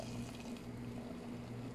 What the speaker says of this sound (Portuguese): Agora eu vou colocar a minha canjiquinha, ó. E, gente, aqui tem 2 litros de água fervendo, ó. Eu vou colocar aqui.